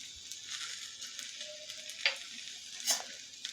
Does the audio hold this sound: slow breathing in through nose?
no